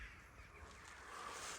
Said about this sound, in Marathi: इथं भाई कावळे बघ केवढे आहेत